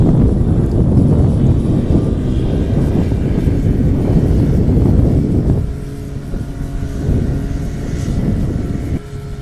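A STOL plane at a competition in Pinedale, Wyoming, its engine and propeller roaring loud and close, then the roar drops and thins as the aircraft pulls away.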